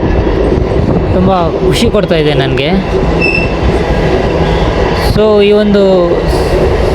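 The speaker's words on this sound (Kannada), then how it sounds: "ಸನ್ರೈಸ್ ನೋಡ್ತಾ ಈ ಟ್ರೈನ್ ಜರ್ನಿ" A passenger train rolls along at speed during a morning sunrise journey, a loud continuous rumble and rattle with metallic squeals, while someone talks over it.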